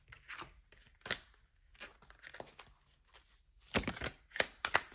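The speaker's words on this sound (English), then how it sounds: "We'll keep shuffling." Tarot cards being shuffled by hand at close range, soft riffling and flicking bursts in an irregular rhythm with quiet pauses between, fairly faint.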